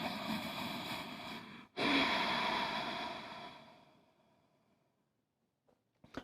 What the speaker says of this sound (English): Ujjayi breath is nothing but closing the glottis partially.